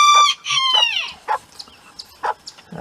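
Several hens with their chicks cluck and peep close by in a short burst of bright calls, a few sharper clucks following after a pause, with no talking.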